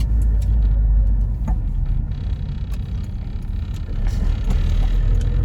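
A Honda S2000 AP1 with a JDM F20C engine and AP2 transmission being driven, its engine and road rumble steady and loud from inside the cabin, with no talk.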